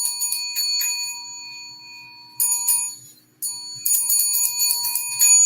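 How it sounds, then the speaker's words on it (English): Small bell-like chime rung to end a timed five-minute session, bright ringing tones in several bursts with brief silent gaps, close and clear with no talking. "I have my own little chime here."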